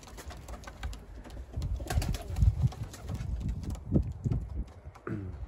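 Low, soft cooing of a male blue German pigeon repeats in bursts close by, with some rustling and shuffling in the background.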